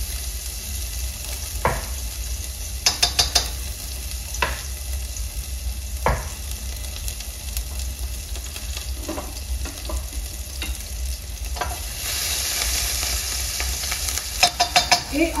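Shallot and garlic hit a hot pan for duck thighs in cider, giving a steady bright sizzle broken by a few sharp scrapes and clinks of stirring, with no one talking.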